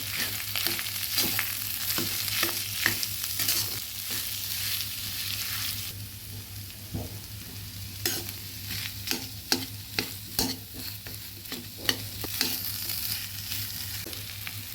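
A spice filling for pumpkin leaf rolls sizzles in a hot pan while a spoon stirs and scrapes through it, with repeated sharp scraping clicks over a steady frying hiss and no talking.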